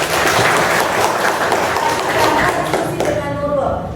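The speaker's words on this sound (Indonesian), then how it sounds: "tepuk tangan untuk Zahra." A classroom full of people applauds steadily, dense clapping that stays loud throughout, with voices mixed in near the end.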